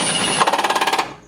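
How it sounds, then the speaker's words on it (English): A Milwaukee impact wrench on its second setting tightens bolts on long tube headers for a Miata, a steady whir breaking into a rapid run of about ten hammering impacts before winding down, close and loud. "I'm just going to be using my second setting on my Milwaukee Impact. Tighten these down."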